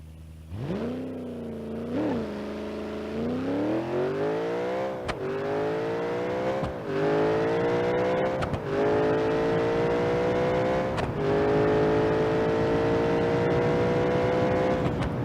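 A V8-swapped Datsun 200bx in BeamNG.drive accelerating hard on nitrous, the engine roaring up through the revs with several sharp gear shifts, each followed by a renewed rising wail, loud and close throughout.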